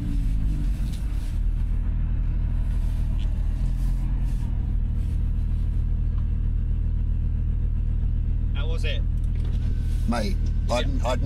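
Engine of a 2023 Audi R8 V10 Spyder on a track, a deep loud continuous rumble heard from close by, with a few brief voices toward the end.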